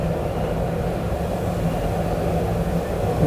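Steady low rumble and rolling hum from inside a moving train in Lusail city, continuous and moderately loud for the whole stretch with no clear breaks.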